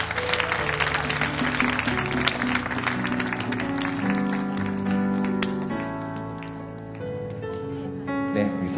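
Dense applause fills a church youth worship hall as people are welcomed to the front, steady and broad throughout, with background music tones and voices murmuring underneath.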